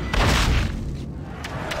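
A heavy knockdown punch lands in the Fight Night Round 3 boxing video game, a loud booming thud with a broad impact burst that rolls into a sustained rumble, with no talking over it.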